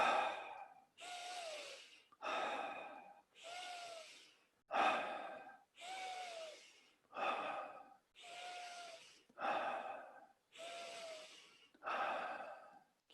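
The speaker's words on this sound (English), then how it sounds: "10 deep breaths." Slow deep breaths during a breathing exercise, eleven or so long inhale-exhale cycles in an even rhythm, close and clear, with no talking.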